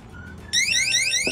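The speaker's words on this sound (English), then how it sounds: "if water touches the top, it will sound the alarm" A shrill, warbling electronic alarm from a water leak detector in an RV starts suddenly and repeats in rapid sweeping chirps, loud and close, after a brief faint tone.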